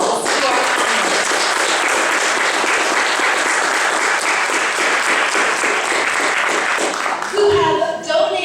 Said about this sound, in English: I just want to give a huge round of applause to our panelists